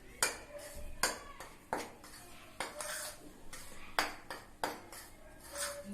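Cupcake batter being mixed in a bowl by hand, with a utensil knocking and scraping against the bowl's sides in about ten irregular, close clinks over a faint background, with no talking.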